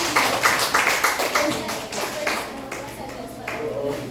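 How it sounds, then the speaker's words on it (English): Applause from a room full of people, dense and steady for several seconds, tapering slightly before picking up again. "Kindly give them a round of applause."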